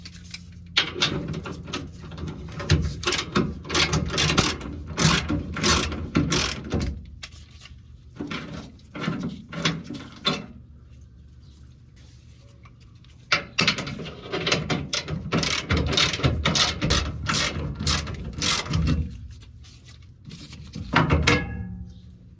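A ratchet loosens the bolts on a tube-style offroad bumper of a 2021 Toyota Tundra, close up, in repeated bursts of rapid clicking with short pauses between strokes.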